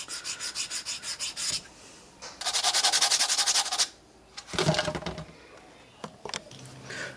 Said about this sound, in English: You can even just do it by rubbing it on concrete